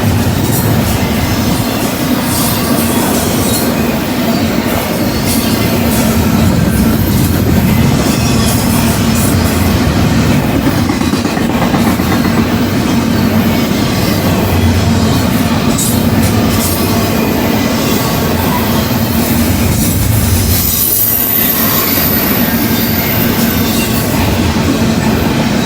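A fast freight train with distributed power units passes close by, a loud, continuous rolling roar of wheels on rail with rattling cars and faint squeals that last throughout, with no voices.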